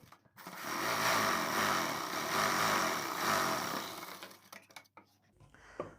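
Motor-driven sewing machine stitching the sleeve seam of a suit, a loud continuous whirring hum that runs steadily for about four seconds before stopping, followed by a few short clicks and handling noises.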